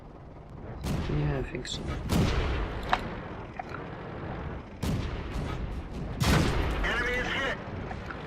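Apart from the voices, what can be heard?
tank gunfire in the video game World of Tanks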